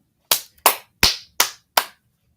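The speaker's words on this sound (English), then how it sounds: "I'm giving you a clap because you're right." Five sharp hand claps ring out alone, unevenly spaced, each a crisp, close snap that fades quickly.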